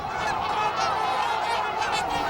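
Trumpeter swans calling on a winter river in Monticello, Minnesota: a dense, continuous chorus of many honking waterfowl, loud and layered, with no talk.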